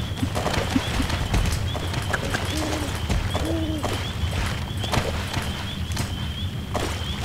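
Hooves of a grey fjord horse clip-clop steadily in the Star Stable Online game, a continuous even trot under a light ambient bed with a faint whinny partway through.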